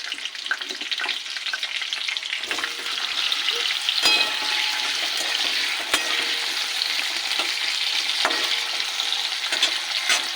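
Potatoes frying in hot oil in a wok after a tempering of black cumin, giving a lively crackling sizzle with sharp scraping clicks from a stirring spatula, close and loud, no voices.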